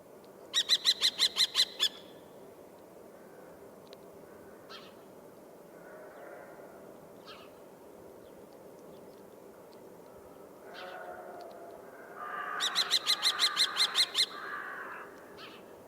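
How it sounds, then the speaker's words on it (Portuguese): Two bursts of rapid, shrill repeated lesser kestrel calls, near and loud, separated by quieter scattered bird sounds and rustling in between. "Mas é este ki que é o som mais característico do peneireiro."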